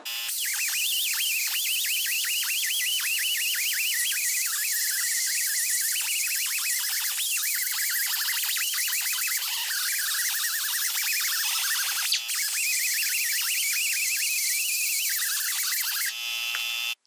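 Large flap wheel grinding the port of a Whipple 3.4 supercharger to match a big bore adapter, a steady loud high-pitched abrasive whine with wavering pitch running almost nonstop throughout.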